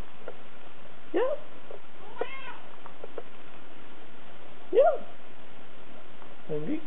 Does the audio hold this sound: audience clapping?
no